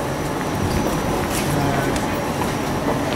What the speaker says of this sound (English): Oh, watch the train go.